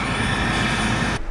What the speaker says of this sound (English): Right now we're waiting for the helicopter, and I think we can hear it.